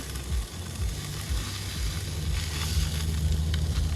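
Food fries on a camping stove beside a lake on a hot day, giving a continuous crackling sizzle that swells slightly over the few seconds, with a low rumbling hiss underneath and no talk.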